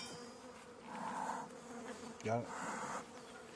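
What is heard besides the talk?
honey bees buzzing at a newly split hive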